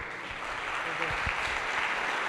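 Applause from a conference audience at a JavaScript event in Brazil greets a presenter about to live-code, a dense steady patter of clapping throughout with faint voices mixed underneath.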